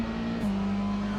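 MX5 Cup race cars at Watkins Glen in the game RaceRoom, a loud sustained engine drone with a steady tone that shifts pitch once as a car passes close by.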